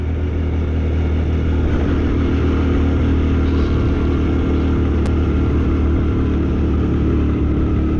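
A Hero Passion Pro motorcycle engine labouring uphill on a Ladakh mountain road, producing a loud, continuous low drone with steady rumble and wind noise, close to the rider throughout.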